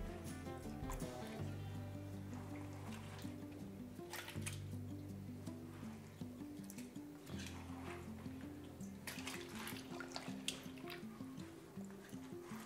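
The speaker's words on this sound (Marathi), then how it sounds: "तर आता 2 पाण्यांमधून वेफर्स आपण स्वच्छ धुवून घेतले। आता मी तिसऱ्या पाण्यामध्ये घालून घेते।" Thin potato wafer slices are swished and moved around in a basin of water while being rinsed, giving soft, faint intermittent drips and splashes over a low steady hum.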